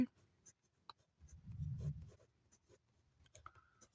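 A pen writes numbers on paper during a Bengali fourth-grade maths lesson, with short scratchy strokes and one heavier scribble in the middle, quiet and close, no talk.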